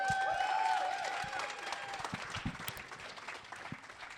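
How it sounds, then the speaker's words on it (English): Audience applause at a Seacoast podcast recording, a scattered patter of claps that starts fuller and thins out over a few seconds, with a faint tonal musical sound in the background early on. "Clap it up for them."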